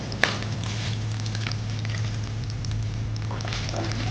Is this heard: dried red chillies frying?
yes